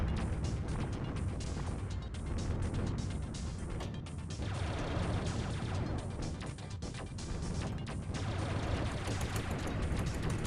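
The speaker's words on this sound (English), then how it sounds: "So many bullets!" Dense, nonstop volleys of gunfire from many bullets in the Mars Invader video game, loud and close, with rapid overlapping shots forming a continuous roar for the whole stretch.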